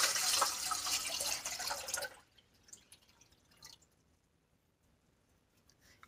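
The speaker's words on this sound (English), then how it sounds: "I'm going to pour eight cups of water into a saucepan." Water poured from a vessel into an empty 3-quart saucepan, a steady splashing rush that runs for about two seconds and then stops, leaving a few faint drips in a quiet kitchen.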